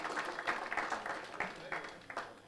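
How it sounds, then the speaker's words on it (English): Quiet, distant audience applause at a retirement benefits sector consultative forum, uneven clapping from a crowd that rises and dips, with voices mixed in beneath it. "Let's give him a round of applause."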